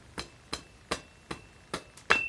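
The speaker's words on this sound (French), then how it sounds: "on va faire dépasser un peu de l'enclume, gentiment frapper" A hammer taps lightly on metal held over an anvil while forging a Viking Mjölnir pendant, six sharp ringing strikes at an even pace, close and clear with no speech.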